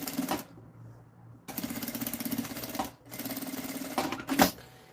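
A sewing machine fitted with a zipper foot stitches a fabric lining in three short whirring runs, with brief silent gaps between them, at close range.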